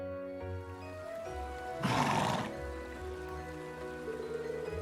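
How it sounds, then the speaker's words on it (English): In the video game Trails of Cold Steel II, a horse whinnies once in a short, loud burst, with soft musical tones playing steadily underneath. "After brushing Arthur and giving him all the care and adoration a horse could dream of"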